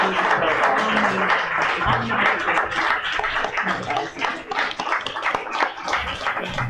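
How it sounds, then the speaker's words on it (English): Lively clapping from an audience at a women's empowerment event, mixed with scattered chatter and a bit of laughter, continuing at a steady level. "give a round of applause for these women making time for this."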